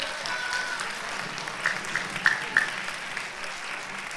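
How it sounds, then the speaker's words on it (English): A concert audience at a spring orchestra performance applauds, a broad sustained wash of clapping with a few brief whistles or cheers rising out of it midway. "Can we give her a big round of applause, please?"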